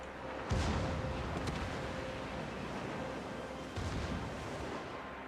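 Armor-piercing shells fired into a ship's broadside in the naval game World of Warships, two deep booming gun blasts several seconds apart over a constant rumble of sea and engine noise.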